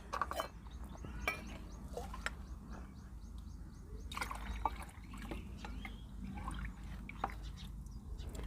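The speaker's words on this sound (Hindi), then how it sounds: "अब ये जो पानी है, ये पानी हम धीरे धीरे करके हमारे पॉट की सॉइल में देंगे।" Water poured slowly into the soil of a freshly repotted rose pot, a faint soft trickle and dribble with occasional drips, plus a few louder knocks and distant bird calls.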